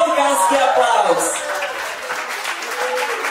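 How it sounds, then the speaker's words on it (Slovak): Wedding guests applaud loudly right after a bouquet toss at a salaš, dense clapping that starts strong and slowly thins, with voices mixed in. "Veľkánsky aplauz!"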